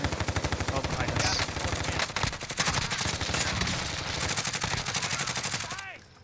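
Rapid automatic gunfire from a Call of Duty: Warzone match rattles in dense, evenly spaced bursts for several seconds, loud and close, with brief pauses and a dip near the end.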